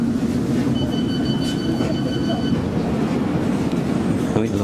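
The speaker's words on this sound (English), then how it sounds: "This is a District line train to Ealing Broadway." A London Underground District line train bound for Ealing Broadway rumbles along loudly with a constant low roar, and a few high whines ring out partway through.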